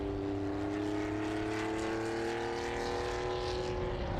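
A vintage Porsche 911 2.5 ST, 2.5-litre racing car at a circuit, passes with a sustained engine note whose pitch slides gradually, moderately distant and steady throughout, no voices.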